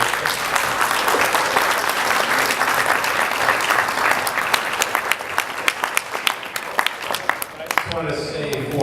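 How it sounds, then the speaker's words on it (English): Audience at an evening panel discussion gives a round of applause, a loud, dense burst of clapping that thins into scattered individual claps before fading near the end. "And let's give him a round of applause."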